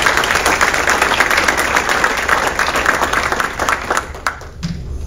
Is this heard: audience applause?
yes